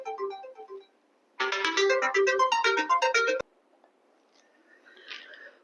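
Mobile phone ringtone plays a short bright melodic tune, loud and close for about two seconds, then cuts off, with quieter melodic sounds before and after.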